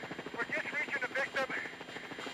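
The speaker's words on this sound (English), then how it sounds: "Give me a little altitude, Jake" A rescue helicopter hovers over rocky terrain during a hoist rescue, its rotor pulsing steadily throughout, loud and close, under radio-style voices talking.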